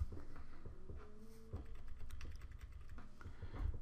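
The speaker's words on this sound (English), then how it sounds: "I'm using the arrow key here on my keyboard" Arrow keys on a computer keyboard are tapped in a loose series of soft, close clicks, heard faintly over a low steady hum with no voices.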